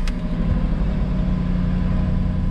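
A car engine runs steadily at a dealer-only auto auction, a continuous low rumbling idle that stays loud and even throughout, with no talk over it.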